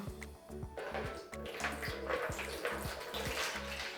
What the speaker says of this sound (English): I'm going to scoop some and put my head over it, and then pour it onto my head